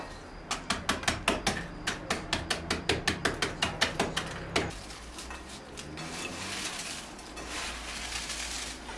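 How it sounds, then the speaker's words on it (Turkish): Petit beurre biscuits snap into small pieces by hand in a rapid run of about twenty crisp, close cracks, then a softer crumbly rustle as the broken bits settle. "O yüzden petibörlerimi böyle birazcık, birazcık değil bayağı ufak parçalara ayırıyorum."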